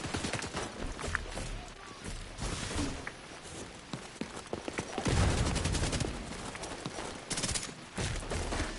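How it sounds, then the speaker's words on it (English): Gunfire in the video game The Division 2, with scattered shots and bursts mixed with footsteps and game noise, moderately loud throughout, with a heavier burst near the middle. "I got somebody shooting me from the side"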